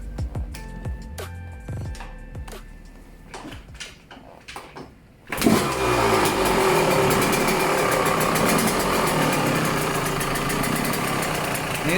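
A Yamaha YZ125 dirt bike engine rumbles quietly with a few clicks, then fires up loudly around the midpoint and settles into a steady, raspy idle close by, through a Pro Circuit exhaust.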